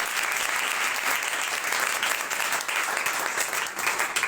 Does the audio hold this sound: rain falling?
no